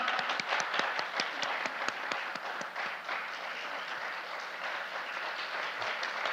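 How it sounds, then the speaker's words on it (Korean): Sustained audience applause following a traditional Korean dance performance at a cultural festival, dense clapping from a large crowd that holds steady throughout. "큰 박수 보내주시기 바랍니다."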